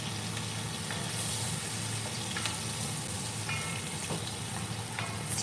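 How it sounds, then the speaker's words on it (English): Braised beef searing in a hot pan gives a steady, close sizzle that holds at an even level throughout, with faint scattered crackles and no voices. "Okay, so that's the sear that we've been looking for"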